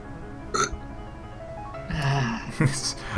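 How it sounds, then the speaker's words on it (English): A short burp bursts out against a quiet game background, followed by further bursts of throaty noise. "A burp."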